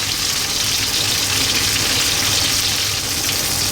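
Pork belly slices wrapped around avocado and cheese sizzle steadily in a frying pan, a dense, constant crackle of hot fat that stays loud and close throughout with no talking.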